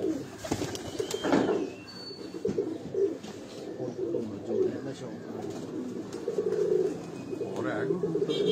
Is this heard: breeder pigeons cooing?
yes